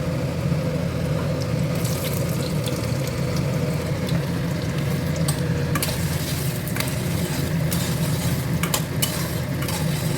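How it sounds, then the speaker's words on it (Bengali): Hard papaya pieces frying in a pan for sago pulao give a loud, steady sizzle, with occasional brief clicks and scrapes of stirring over the constant crackle. "পেঁপেটাকে একটু ভালো করে ভেজে নিতে হবে"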